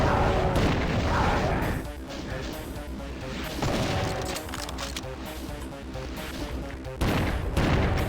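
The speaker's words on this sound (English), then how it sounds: "we're going to use the rockets to get rid of these Hell Knights" Rockets blast at Hell Knights in Doom II, a run of loud, heavy explosions and booms that crowd together and overlap, with dense gunfire-like crashes throughout and a couple of sharp bursts standing out.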